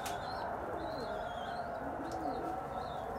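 Pigeons in a coop, faint distant cooing and chirps with soft wing flutters over a steady background hiss, with no one speaking.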